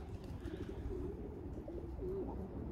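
Soft, low pigeon coos repeat a few times, faint and nearby, over a quiet background hum.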